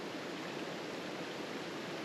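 A waterfall near La Fortuna, Costa Rica, pours down in a dense, steady rushing roar with no breaks, heard close and alone without voices.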